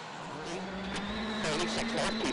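Citroën DS3 rally car driving a muddy forest stage at the 2011 Rally Australia, a steady engine drone with a rising note, fairly distant and continuous.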